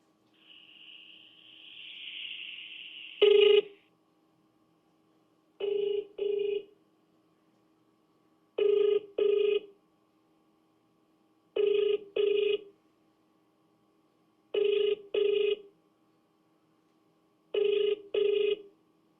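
A telephone rings back after a number is dialed: a short tone, then a repeating double-burst ring cadence, each pair of pulses separated by silence, clear and close.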